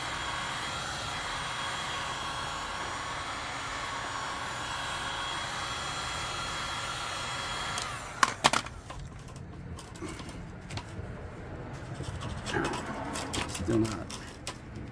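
A variable-speed heat gun blows a steady, moderately loud airflow roar onto quarter-inch ABS plastic for about eight seconds, then cuts lower, leaving scattered clicks, taps and handling noises.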